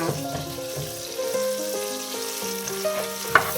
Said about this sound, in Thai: แล้วก็จะผัดหอมไปนะคะ